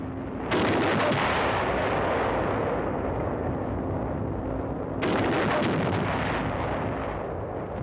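An artillery barrage shells the volcanic-sand beach at Iwo Jima during wartime landing operations: two heavy, loud blasts about four and a half seconds apart, each followed by a long rumbling decay.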